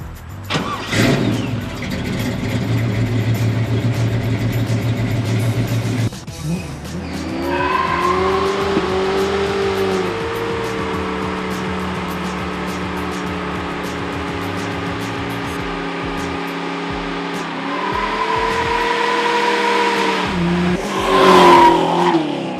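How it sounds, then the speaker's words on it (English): A muscle car engine cranks and fires up, then settles into a throaty idle with rising and falling revs, ending in a loud rev burst. "one unique way of starting the engine"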